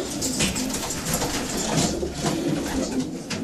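Racing pigeon cooing in a loft, soft low coos repeating over a steady hum of other birds nearby, with no talk.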